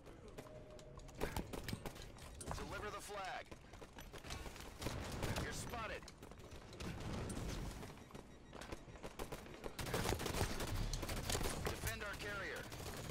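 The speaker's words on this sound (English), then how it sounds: "What a weird gunfight." Halo 5 multiplayer gunfight with dense, continuous rapid-fire weapon bursts and impacts over about thirteen seconds, busy and cluttered throughout with game effects layered in.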